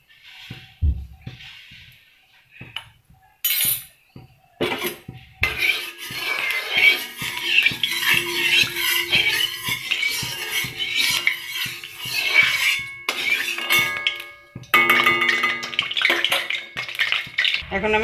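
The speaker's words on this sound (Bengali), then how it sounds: "তেলটা গরম হলে আমি আলু আর পেঁয়াজটা দিয়ে ভালো করে ভেজে নেব।" Potatoes and onion are stirred and fried in oil in a hot wok, with metal utensils scraping and clattering against the pan over a steady sizzle, close and irregular, with brief pauses.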